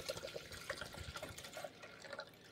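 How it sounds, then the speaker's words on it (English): Liquid descaler poured into the water tank of a Braun MultiServe KF9150 coffee machine, a quiet, continuous splashing trickle with small bubbling drips throughout, close by and without speech. "I'm going to pour the whole thing in there"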